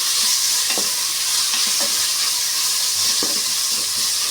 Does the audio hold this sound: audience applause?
no